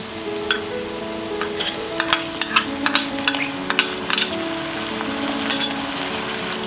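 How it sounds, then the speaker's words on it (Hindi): Chopped tomatoes hit a hot pan of softened onions for palak khichdi, giving a steady sizzle and frying hiss with scattered spatula clinks and scraping against the pan, no talking. "अब हम इसमें डालेंगे ये टमाटर"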